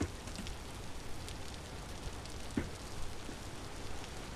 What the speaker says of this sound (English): The continuous rain does not help.